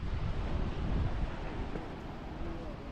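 Surf crashing below towering limestone cliffs at Kelingking Beach on Nusa Penida, a steady loud wash of breaking waves mixed with wind buffeting the microphone, continuous for the whole stretch with no talk.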